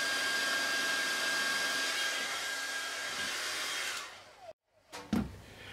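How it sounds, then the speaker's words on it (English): A hairdryer runs with a loud, steady broadband whoosh for about four seconds, then cuts off abruptly, followed by a few brief knocks and handling sounds. "We turn on our hairdryer."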